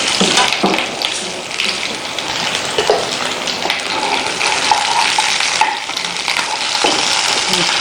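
Chops (chaanp) sizzle steadily in a frying pan for a Bakra Eid recipe, a loud, continuous crackling hiss with occasional stirring scrapes and no voices.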